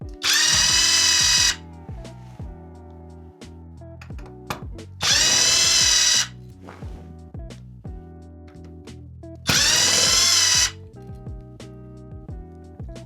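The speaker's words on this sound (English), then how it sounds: "just get a drill and just remove those bolts" A power drill backs out the bolts of a locked, damaged car seat belt, firing in three loud, sustained whirring bursts separated by quieter clicks and clatter.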